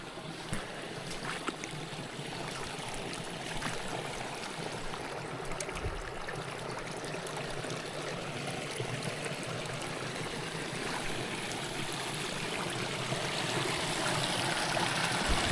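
A forest stream flows steadily, a continuous broadband rush and trickle of water running close by along a winding channel, with no voices present.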